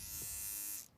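A Philips OneBlade electric beard trimmer runs with a steady high-pitched motor whir, close and loud, then cuts off at the end.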